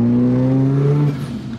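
A Mazda FD RX7 rotary turbo engine revs hard, its loud buzzing tone climbing steadily as boost spools, then easing off abruptly near the end.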